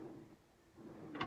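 A drawer in a Peugeot Boxer L2H2 camper van slides along with a soft rumble and is then shut with a short, sharp knock, quiet and close, without any talking.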